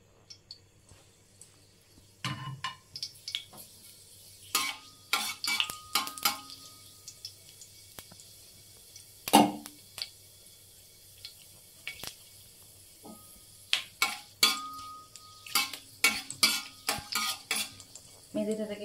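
Close kitchen clatter of a utensil stirring against a pan, with scattered clinks and bursts, as fenugreek seeds are tempered in hot oil and ghee for methi chicken; a faint sizzle runs underneath, and nobody speaks.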